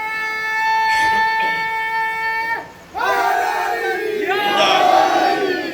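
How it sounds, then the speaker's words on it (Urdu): A crowd at a Muharram majlis in Dharampura chants a religious slogan in loud unison, then breaks off briefly and roars back with a second, rising round of shouted chanting. "آپ نے نعرے سے نواز دیا ہے"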